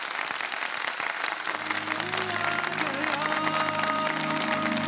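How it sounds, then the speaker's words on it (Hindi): A studio audience claps steadily during a televised quiz competition, the dense applause running throughout while a tonal musical sting rises underneath after the first second and a half. "तीनों के लिए बहुत सारी तालियां।"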